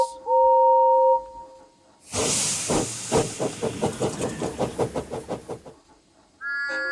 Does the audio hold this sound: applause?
no